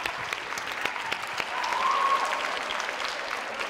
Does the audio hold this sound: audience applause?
yes